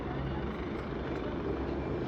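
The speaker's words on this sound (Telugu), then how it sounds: "అదిగోండి హెలికాప్టర్ మళ్ళీ స్టార్ట్ అయిపోయింది, వెళ్ళిపోతుంది." A helicopter at the Kedarnath helipad in the Uttarakhand mountains drones steadily as it powers up to leave, a continuous, even engine and rotor rumble at moderate distance.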